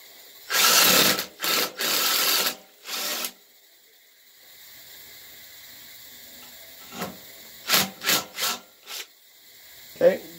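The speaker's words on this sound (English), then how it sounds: "drill your hole" Someone drills a hole while making a homemade pressure washer nozzle, with several short loud bursts of a power drill separated by pauses, then a quieter stretch before a few more brief, rasping bursts.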